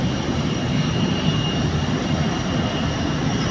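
Loud, steady roar of an airplane at a large Japanese airport, a continuous broadband engine rumble with no talking.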